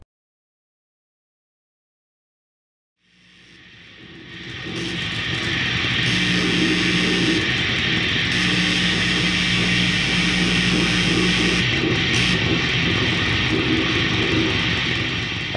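Harsh no-input noise music: after three seconds of silence, a dense wall of hissing, buzzing feedback swells in and holds loud and sustained, with shifting tones and brief dropouts.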